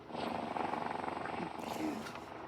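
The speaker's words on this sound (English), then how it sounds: "let it all out with a purring sound" A Moxie robot makes a continuous rolling purr, steady and fairly loud, with some voice-like tone woven through it.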